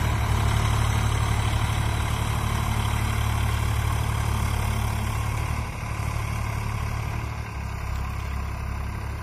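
A Swaraj 744 FE tractor hauling a trolley of potato sacks at night runs with a steady, loud diesel drone, a slight dip in the middle, and no voices.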